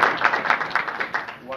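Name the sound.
audience clapping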